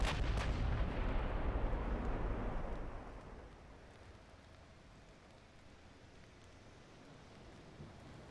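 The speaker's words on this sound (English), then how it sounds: "Our battleships are keeping up a pretty steady rate of fire" Battleship guns fire in the Ultimate Admiral: Dreadnoughts naval game with a booming, rumbling salvo at the start that fades over about three seconds into a low, steady background roar.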